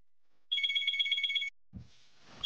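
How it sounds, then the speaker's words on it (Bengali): A telephone rings once for an outgoing call, a single second-long warbling electronic trill at close range, then a brief thump and hiss. "পুরবীকে একটা ফোন করবো"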